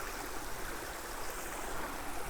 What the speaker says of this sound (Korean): 아 물소리